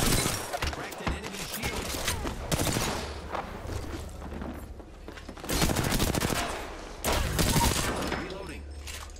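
Rapid automatic gunfire in Apex Legends bursts out in several loud, clustered volleys with short gaps, and a game voice speaks briefly between the shots.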